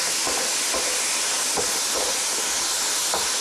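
Crumbed tofu and soy sauce sizzle in a wok with a loud, steady hiss, and soft clicks of stirring recur every half second or so.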